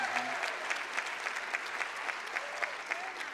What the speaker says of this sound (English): let's just give those guys a round of applause